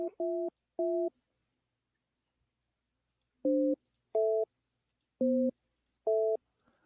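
Telephone tones while a call is being placed: six short, evenly shaped beeps, two close together, then a pause, then four more in a steady rhythm, clear and alone with no talking.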